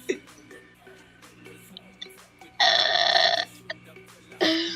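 Two loud, close burps, the first long and sustained and the second shorter near the end, come between quieter clicks and faint background talk.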